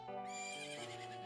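A mare neighs in the Zelda Majora's Mask video game, one clear whinny lasting about a second, alone and fairly quiet.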